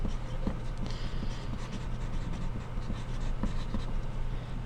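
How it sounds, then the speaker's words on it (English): A pencil scratches across paper as a name is written, a continuous close scratchy rasp with short strokes and pauses over a steady room hum, no talking. "write your name"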